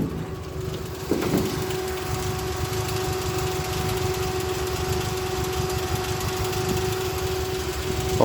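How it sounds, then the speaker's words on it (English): A Triumph GT6 MKIII six-cylinder engine idles with its electric cooling fan running, a steady close hum and whir that holds evenly throughout with one faint knock early on and no talk. "the car's been idling a little while, so electric fan has kicked in"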